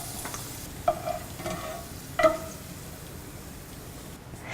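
Raisins roast in a pan for carrot payasam, a soft faint sizzle broken by a few quiet clinks and scrapes of a stirring spoon, then fading toward the end.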